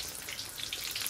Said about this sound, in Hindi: ये हम बैगन के स्टफ बैगन के पकोड़े इसको फुल फ्राई कर रहे हैं, तेज आंच करके इसको आपको फुल फ्राई करना